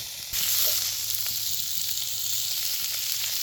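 Deer heart pieces sizzling in butter in a pan, a loud steady frying hiss that swells after a brief quieter start and holds evenly throughout, with no talking.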